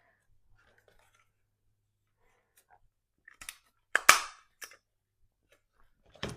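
A hand stapler punches through paper into a homemade trash journal, giving a few sharp close clacks and crunches in a quiet room.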